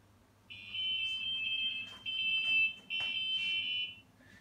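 A steady high-pitched electronic alarm tone from a FastCAT start gate sounds in three sustained bursts with brief gaps, loud and close over a low background hum, indoors.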